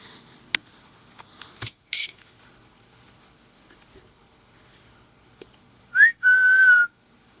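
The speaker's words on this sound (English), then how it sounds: "I think I just heard a whistle." A single clear whistled tone, rising briefly then holding steady for about a second, faint and distant against quiet night ambience with a few soft clicks.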